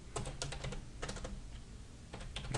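A command is typed on a computer keyboard, with quick clusters of key clicks and brief gaps over a steady low background hum, close and moderately quiet.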